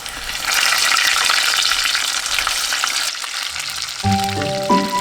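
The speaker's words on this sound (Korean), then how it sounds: "노릇하게 튀겨서 바로 꺼내면 돼요" Button mushrooms deep-fry in hot cooking oil with loud, dense sizzling and crackling up close. The sizzling eases partway through, then a few clear tonal clinks ring out near the end.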